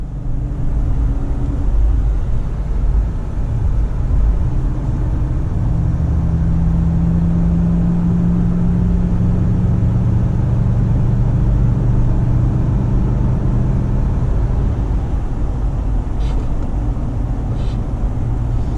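A Lexus GX460 SUV cruises on the highway, its interior filled with a steady low road rumble and engine drone that swells slightly mid-way, with no talk.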